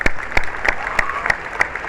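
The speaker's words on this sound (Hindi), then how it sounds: "टीम APLL बैकएंड के लिए एक बार जोरदार ताली हो जाए" Audience clapping loudly in unison at a corporate speech event, dense sustained applause with sharp individual claps standing out, filling the whole stretch without voices.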